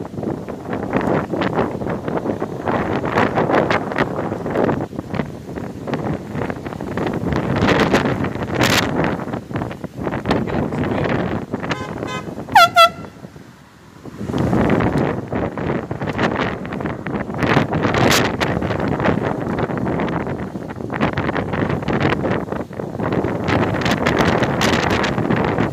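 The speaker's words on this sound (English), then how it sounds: "it's getting windy!" Strong wind buffeting the microphone while riding a bicycle, a continuous loud rumbling roar with gusty surges, briefly dropping away around the middle before building again.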